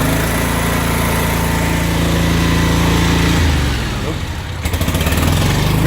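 A 2019 Bad Boy Rogue mower with a 993cc EFI Vanguard engine runs loud and steady nearby, then its throttle shifts and the engine note drops and wavers unevenly.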